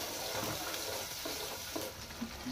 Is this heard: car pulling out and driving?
no